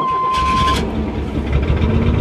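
A Chevrolet S10 pickup truck's engine catches and settles into a loud, close, rough idle after a brief high tone at the start.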